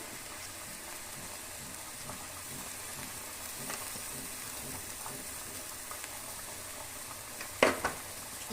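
Chicken pieces for sukka sizzle quietly in a pan after salt is added, a soft continuous fry with a brief stirring clatter near the end and no talking.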